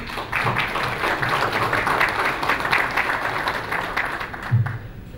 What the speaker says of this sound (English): clapping was a little bit before, again, and more clapping coming up.